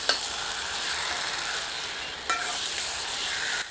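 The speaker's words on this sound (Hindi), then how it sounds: "इसे मिलाकर 3 से 4 मिनट तीव्र आंच पर भूनते हैं और निरंतर करछी चलाते रहते हैं" Mutton with spices frying over high heat, a steady broadband sizzle running throughout with a couple of sharp scrapes from a ladle stirring the meat, close and fairly loud.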